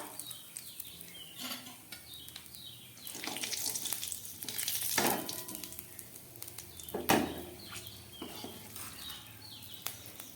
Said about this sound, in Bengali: এই তেলের মধ্যে আমি একটু গোটা জিরে ফোড়ন দিয়ে দেবো, আর সঙ্গে দিয়ে দিচ্ছি একটা লঙ্কা